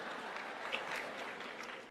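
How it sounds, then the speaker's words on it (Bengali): Lecture audience applauding, a faint, distant wash of clapping that holds steady for under two seconds with no voice over it. "হাততালি থামাও"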